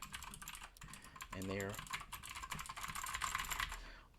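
Quick, steady typing on a cheap FELiCON mechanical keyboard fitted with Gateron blue switches, the clacks running continuously at close range while someone speaks briefly over them.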